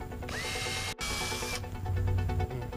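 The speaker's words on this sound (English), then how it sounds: "Let me get that drill." Power drill boring into a wooden mailbox post, a loud close whine with a short stop, then a rougher grinding bite as the bit cuts through the wood.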